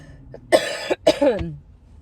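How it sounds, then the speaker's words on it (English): Two or three rough, close coughs in quick succession, loud and clear, with a faint hum underneath. "I have to cough, and I'm just gonna cough"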